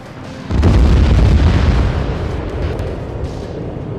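Cluster munition explosions in Arma 3 erupt as a loud, heavy boom at about half a second, then roll on as a dense, rumbling barrage of overlapping blasts that slowly thins without fully fading.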